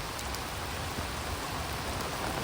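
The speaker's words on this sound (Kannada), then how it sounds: "ಇಷ್ಟು ಮಳೆ ಬರ್ತಾ ಉಂಟು" Heavy rain pours down steadily during a flood, a dense, unbroken hiss of water falling close by.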